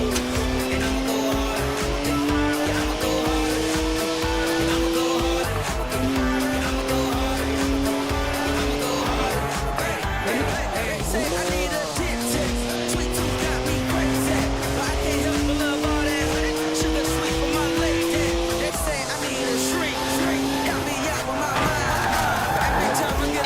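A BMW 1M with rear-wheel drive and 50-50 weight distribution, driven and drifted in Forza Horizon 4. The engine note climbs through gears steadily, with repeated upshifts, tire noise and a voice talking over it.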